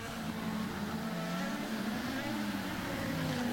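IndyCar race cars roar past on the Long Beach street circuit during a 2011 race, a dense steady engine drone from several cars at a distance that fills the whole moment, with no speech heard.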